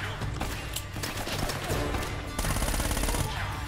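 Gunfire in the video game Uncharted: Drake's Fortune: dense, rapid automatic bursts that run continuously without pause, growing heavier in the second half, with no talking.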